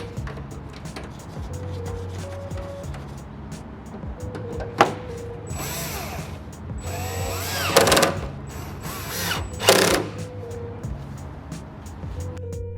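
A power drill reinstalls Torx bolts in the interior of a 4th-gen Ram 1500, giving a few short, moderately loud whirring bursts among quiet clicks and handling sounds.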